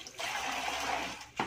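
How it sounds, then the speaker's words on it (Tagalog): Water poured into a basin to rinse laundry such as T-shirts, a short steady gushing splash that stops, then a brief final slosh. "lagay tayo ng tubig"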